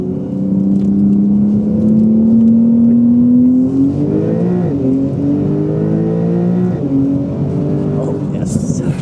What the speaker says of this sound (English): You can hear that exhaust open up quite a bit